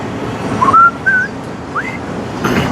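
Someone whistles with wet lips outdoors, a few short, thin, gliding notes, fairly faint, over steady background noise.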